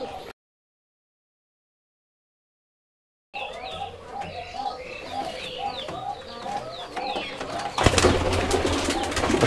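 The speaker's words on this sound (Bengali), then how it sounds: "এটা এক জোড়া কবুতর, সবুজ দোবাজ" A pair of local Rajshahi Giribaj pigeons coo in repeated close, throaty rolls after a few seconds of silence, with the background growing noisier toward the end.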